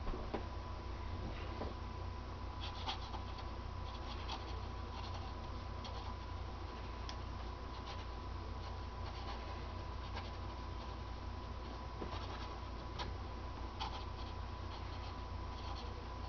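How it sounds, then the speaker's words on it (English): A fountain pen filled with Pilot Iroshizuku Ku Jaku ink scratches quickly across paper, its steady soft rasp broken by quick ticks of strokes, faint and close, with no one talking. "What about fast writing?"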